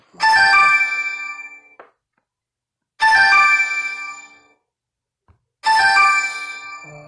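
A telephone rings indoors with a bright electronic ringtone, three loud bursts separated by pauses of silence, with no talking over it.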